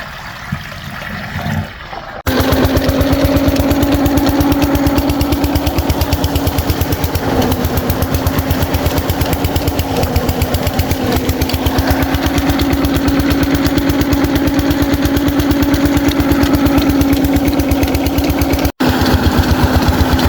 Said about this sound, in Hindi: पीटर इंजन हमारा आसानी से स्टार्ट हो गया है